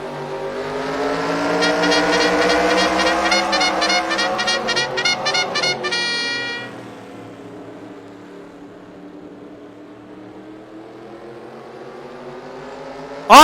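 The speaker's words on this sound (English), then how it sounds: "The mighty Modifieds are ready to rumble." Modified race cars roaring past at Spencer Speedway, a loud pack of engines revving and whining in layered tones that swell and then fade into a distant drone, with a sharp burst at the very end.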